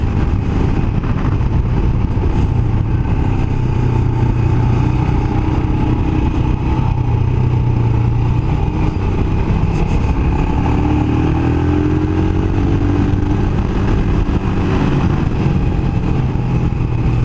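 A Royal Enfield single-cylinder motorcycle pulls hard in second gear up to about 80 kph on a twisty mountain road, its loud, close engine thrumming and rising in pitch against steady wind noise.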